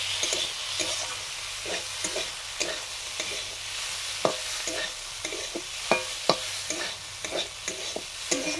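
Boiled dal with dried red chilli and nigella seeds being stirred in a hot pan, a continuous sizzle under a steady rhythm of spoon scrapes and knocks against the pan, close and without talk.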